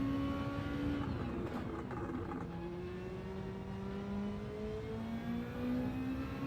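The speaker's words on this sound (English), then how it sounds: "I seem to remember I like the sound that this car makes" A race car engine in a video game drones and shifts pitch up and down as it revs and changes gear on a track, moderately loud and steady with no one speaking.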